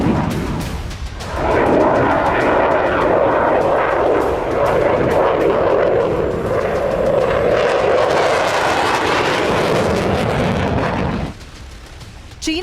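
A J-35A stealth fighter jet roars with a loud, steady broadband engine rush that swells up after a brief lull, holds for about ten seconds, then drops away near the end.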